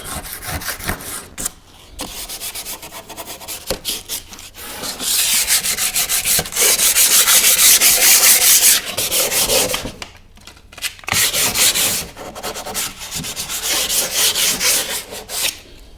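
Sandpaper rubs over a painted stair tread to scuff the surface for adhesive, a steady abrasive scratching in long strokes with a few short pauses, loud and close.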